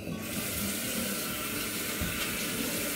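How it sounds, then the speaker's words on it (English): Lukewarm tap water runs steadily into a sink while avocado is rinsed out of a beard, a continuous close splashing rush with no pauses. "I'm gonna rinse it out now. One thing, use lukewarm water when you rinse it out."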